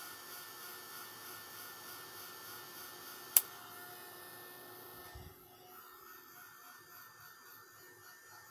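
Heat tool blowing a steady whirring hum as ink on a card is heat-set, with a sharp click midway and the tone dropping away near the end.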